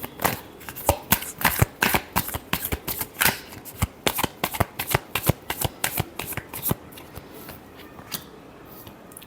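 A deck of tarot cards is shuffled close up in a fast, steady run of crisp riffling snaps and slaps that continues for several seconds without any talk.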